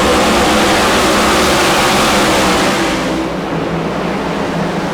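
NASCAR stock cars roaring together on the Bristol short track in a racing video game, a loud, dense engine drone that eases off slightly toward the end with no voices.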